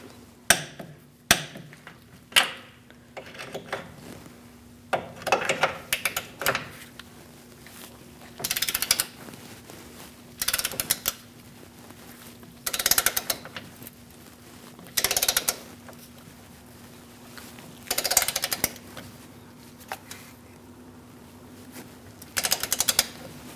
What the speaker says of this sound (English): Torque all 3 nuts to 64 foot-pounds.